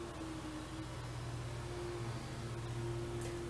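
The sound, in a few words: landscaping work noise from outside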